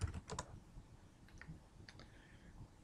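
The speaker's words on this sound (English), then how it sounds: "Alright, type in Maya." Faint keystrokes on a computer keyboard, a few quick clicks at the start and scattered taps afterward, quiet and close.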